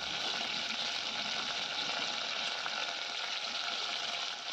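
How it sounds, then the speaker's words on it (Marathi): Ginger garlic paste frying in a pan with bay leaves and curry leaves for a village-style chicken curry, a steady close sizzle that holds evenly throughout with no voices. "आलं लसणाचं वाटण तयार करून घेतलेलं आहे ते घालून घ्यायचं आहे"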